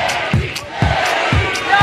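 A rap battle crowd chants in a steady rhythmic pattern, loud and close, with repeated low pulses and raised voices cheering throughout.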